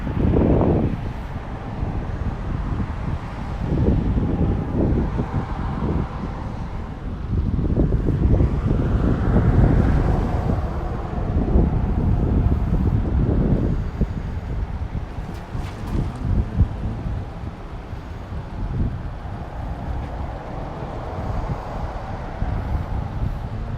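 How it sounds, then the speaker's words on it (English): Strong gusting wind roars and buffets across the microphone outdoors during a drone flight, loud and sustained with surging peaks and no talking. "wind picking up"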